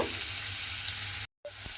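Sliced onion frying lightly in hot oil in a home kitchen, a steady close hiss of sizzling that drops out briefly before resuming with a faint stir.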